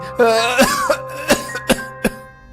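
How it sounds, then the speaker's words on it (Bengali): A series of sharp, close coughs, about five in quick succession, with a raspy voiced quality and short pauses between them. "তুই অমন করে কাশছিস কেন আজ?"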